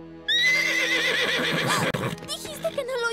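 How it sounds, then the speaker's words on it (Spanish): A wild horse gives a loud, drawn-out neigh close by, rising and wavering before breaking off, with some rustling and shuffling afterward. "¡Es el caballo!"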